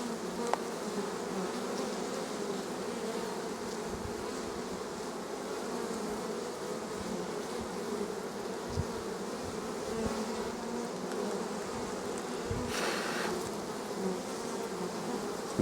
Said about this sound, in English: Some good looking bees.